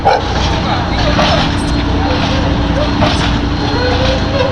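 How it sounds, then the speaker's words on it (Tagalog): A large dog barks outdoors near a harbor with ships, a few loud barks and yips mixed with boat and vehicle noise, while people talk and laugh nearby. "laki ng aso"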